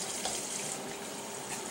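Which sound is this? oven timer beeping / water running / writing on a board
water running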